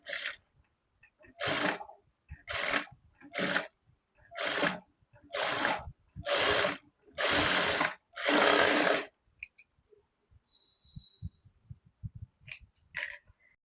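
A domestic sewing machine stitches a folded neck piece for an embroidered blouse in short close bursts, about nine runs of rapid whirring stitching separated by pauses, then a few quieter clicks and handling sounds.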